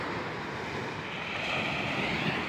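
Rough sea by the shore, broad and continuous wave wash mixed with wind rumble against the microphone, steady and loud throughout.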